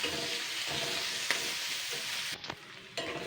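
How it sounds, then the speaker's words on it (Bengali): Chopped onion and garlic sizzle in a pan with a steady, close hiss, while a spoon stirs and scrapes with a few sharp clicks near the end. "এবার আমি এটাকে জাস্ট 2-3 মিনিট হালকা নেড়ে চেড়ে নেবো, ভাজা করে নেবো 2 মিনিট মতন"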